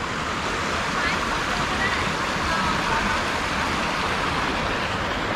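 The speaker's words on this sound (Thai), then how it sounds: "อยู่ริมน้ำตกนะครับ" A waterfall beside a riverside restaurant at Bo Kluea in Nan province, Thailand, pours steadily. Its loud, continuous broadband rush holds constant throughout, with no breaks and no clear voices.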